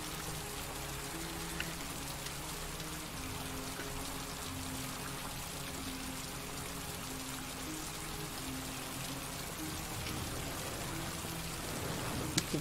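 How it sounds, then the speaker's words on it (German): Steady rain in the video game Heavy Rain, a constant dense patter that keeps going for the whole stretch with no let-up and no voices over it. "Ja, hat ordentlich weiter geregnet die ganze Nacht"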